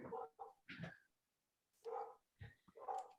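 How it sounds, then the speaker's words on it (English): Household dog barking in short separate bursts, a few close yaps with a pause in the middle, faint overall. "if you can all hear our dog barking"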